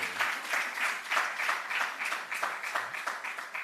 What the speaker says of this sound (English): Clap him now.